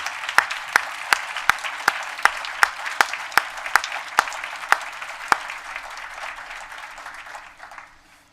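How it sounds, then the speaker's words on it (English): Audience applause at a conference closing session honours staff, interns and volunteers. One sharp, regular clap keeps time over a softer wash of clapping that thins out and fades near the end. "Stand up and take some applause,"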